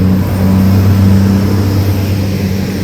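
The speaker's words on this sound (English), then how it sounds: "Oh, there's a tourist bus going up there." Loud, steady engine drone of a tourist bus driving up a road at Ravne Park, a close continuous low hum with a slight rise, no talk.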